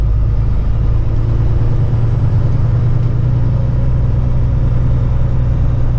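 A Kenworth heavy truck with a 605 HP Cummins engine cruises on a freeway, its low, steady engine rumble and road drone filling the cab continuously at close range.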